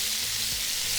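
Thin strips of flank steak, seasoned with salt and black pepper, sizzle and fry steadily in a pan of leftover bacon grease, a close, even hiss with no talking.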